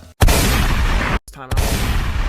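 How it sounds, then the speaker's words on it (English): Sniper quick scope sound effect from a game: a short click, then two loud booming rifle shots with rolling tails separated by a brief gap, punchy and close, with no talking. "Next is a sniper quick scope."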